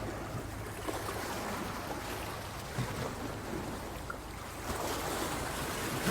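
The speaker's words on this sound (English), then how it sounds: "now the waves are picking up." Ocean waves at night, a steady broadband wash of surf with wind, swelling slightly toward the end, heard at moderate distance without any voices.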